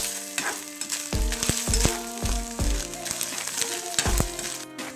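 Grated coconut, mustard seeds and onion frying in hot coconut oil with curry leaves give a steady, close sizzle, broken by a series of sharp crackles and pops as the seeds burst, with a few scraping stirs.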